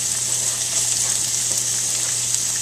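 Onions sautéing in a pan give a steady, close sizzle with an even hiss and light crackle, continuous and unbroken throughout, with no talk.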